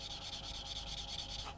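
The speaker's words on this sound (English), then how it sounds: "So I'm going to sand away with this one" Fine-to-medium grit sponge sanding stick rubbed back and forth on a plastic part of a 1/35 scale Leopard 2 A7 tank kit, a close, steady rhythmic scratching of quick even strokes that stops at the end.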